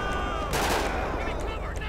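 Submachine gun fire rattles in a GTA5 police shootout on a shopping street, a loud, continuous stream of close shots with a faint voice underneath.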